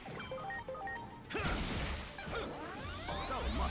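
Smashing attack effects from a Digimon video game: loud crunching impacts and whooshing swipes layered over electronic game music, dense and continuous with no talk.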